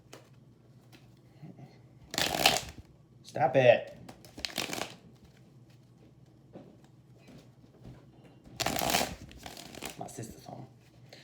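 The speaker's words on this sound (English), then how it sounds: "I need 2 more good shuffles." Brisk riffling shuffles of tarot cards in a few separate bursts, close by, with a voice talking briefly between them.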